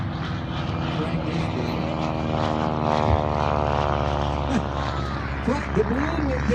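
A propeller airplane flies at a flying circus air show, its droning engine steady and loud with a rising and falling pitch, while a voice talks over it.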